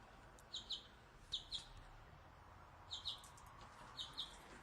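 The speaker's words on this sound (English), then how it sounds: "Go find where that bird is chirping from." Short bird chirps in a garden, coming in paired bursts of two or three notes with gaps between them, faint and somewhat distant over a quiet outdoor background hum.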